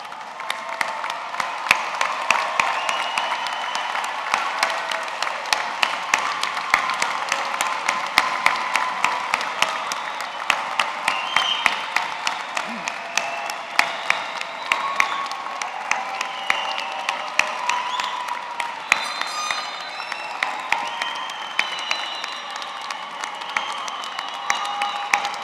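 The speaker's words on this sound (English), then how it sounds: "face the audience, and thank and applaud all the people who are here for you today" A large audience at a university graduate commencement ceremony applauds steadily for about twenty-five seconds, a dense wash of clapping with scattered cheers and whoops throughout.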